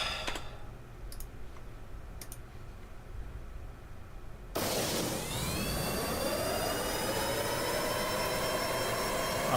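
Jet engine of an aircraft in Kerbal Space Program spools up abruptly and roars steadily on takeoff, loud and rising in pitch, after a quiet stretch with faint clicks.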